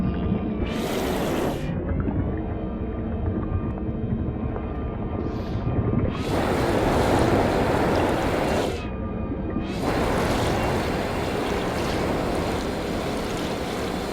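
Heavy rain pours on a planet in No Man's Sky as a loud, steady broadband roar, with low rumbling wind and surges that swell and fall away several times over the stretch.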